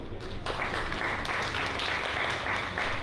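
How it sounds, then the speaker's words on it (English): An audience at the Expatpreneur Awards 2021 livestream applauds with steady, dense clapping that continues evenly throughout, moderately loud and without talk. "Let's give them a round of applause."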